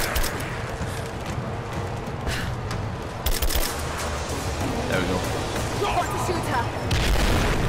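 Gunfire in Rise of the Tomb Raider as shots strike rocks, a dense run of sharp, booming reports at close range with a steady rumbling game backdrop.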